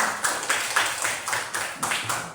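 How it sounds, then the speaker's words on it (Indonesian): Children clapping their hands together in a classroom, about nine quick, fairly even claps in a steady rhythm, moderately faint and close. "Ya, tepuk tangan."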